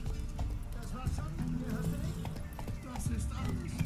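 Horse hooves in the video game The Witcher 3: Wild Hunt clip-clop at a steady trot under constant talking and background game music, fairly close and moderately loud.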